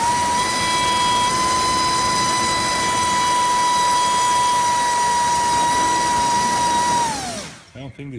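A Racekraft 5051 propeller spinning on a thrust test stand gives a loud, steady high-pitched whine with a strong tonal hum. It holds evenly for about seven seconds, then winds down quickly as the motor cuts out.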